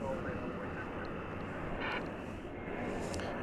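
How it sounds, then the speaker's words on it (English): An American Airlines Airbus A321 arriving at DFW Airport from Denver, heard as a steady, loud jet engine roar that fills the whole stretch without a break, with a voice talking faintly under the noise. "Arriving from Denver, Colorado is this Airbus A321 American Flight 1322."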